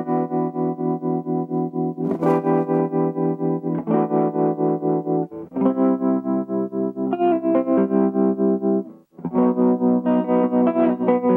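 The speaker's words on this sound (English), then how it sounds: "sticking with the tremolo circuit, I've cut the speed down and lowered the intensity, and let's hear what that sounds like" London 65 guitar amp with tremolo at slow speed and low intensity, a sustained chord ringing loud and close with gentle volume swells, several chord changes and a brief gap, no talk.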